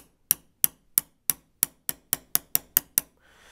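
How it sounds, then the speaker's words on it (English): A hose fitting is tapped onto the valve of a Smith Little Torch with about ten sharp, close metallic taps that come in a quickening rhythm, each one crisp and short with a quick decay, and no voices alongside. "So you just do this and you start tapping."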